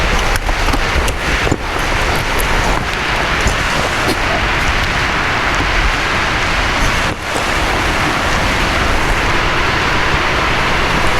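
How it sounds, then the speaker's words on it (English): Steady rain pours outside during a 2018 Ford F-150 3.5 cam phaser swap, a dense, loud hiss broken by a few sharp close knocks. "As you can tell, it's raining."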